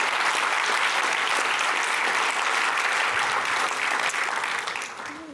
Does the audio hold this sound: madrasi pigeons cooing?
no